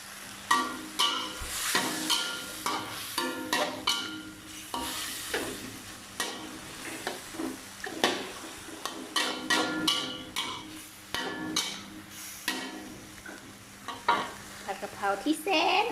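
Pork pad kaprao stir-fried in a pan, with repeated scraping and clattering of the spatula over a steady sizzle, close and fairly loud, no talking.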